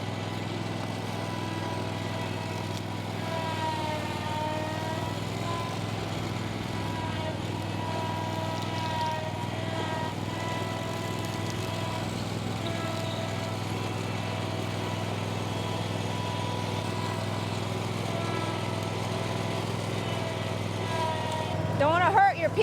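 A riding lawn mower with a string trimmer mounted on its mower deck runs steadily and close by, a constant mid-pitched engine drone that holds level throughout and swells briefly louder at the very end.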